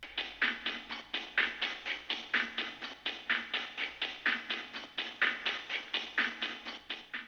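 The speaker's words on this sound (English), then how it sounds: "on the build up, I had this percussion sound." Percussion loop from a build-up section made in FL Studio, crisp bright tapping hits in a fast even rhythm, moderately quiet and alone with no voices.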